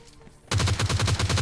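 Gunfire in the mobile game PUBG Mobile Lite: after a quiet moment, a loud automatic weapon opens up with a rapid, evenly spaced burst of shots.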